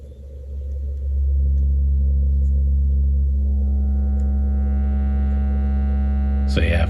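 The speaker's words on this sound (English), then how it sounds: "fuzz really just changes sine wave into square wave" A fuzz effect circuit squares off a sine wave, giving a loud, steady buzzing hum with dense harmonics that swell and hold, ending in a brief burst at the close.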